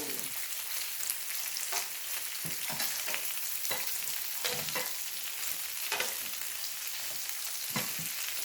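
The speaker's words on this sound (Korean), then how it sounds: "이렇게 삼겹살을 갖다 익혀서 먹는 거 같아요" Pork belly fries in a pan with mushrooms and chili pepper, giving a steady, close crackling sizzle throughout, broken by scattered louder pops and stirring scrapes.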